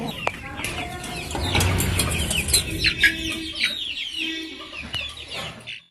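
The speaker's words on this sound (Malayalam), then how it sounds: "താറാവും കോഴിയും അങ്ങനെ പല ഇനത്തിൽപ്പെട്ട കോഴികളെയും ഞങ്ങളിവിടെ വളർത്തുന്നുണ്ട്" Chickens of several breeds, kept alongside ducks at a home farm, cluck and squawk close by in a lively, irregular chorus, with brief wing flaps and a voice faintly in the background.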